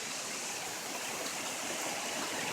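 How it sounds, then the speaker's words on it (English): Heavy rain pours down during a thunderstorm, a dense, continuous roaring wash of water that stays loud and even throughout, with no voices. "it's pouring."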